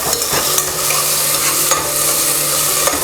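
Tomatoes stirred and sautéed in a pan for a mutton vellai kuruma, a close, steady sizzle with scraping stir strokes running throughout and no talk.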